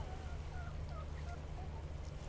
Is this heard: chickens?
yes